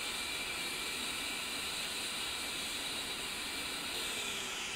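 Both jet engines of an A-10C Warthog run in a flight simulator game, giving a steady, loud whine and airy hiss that holds level for the whole stretch. Nothing else is heard and no one speaks.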